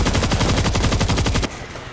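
Rapid automatic gunfire in the zombie shooter World War Z, a loud, close burst of evenly spaced shots lasting about a second and a half before stopping abruptly, leaving a quieter ambient tail.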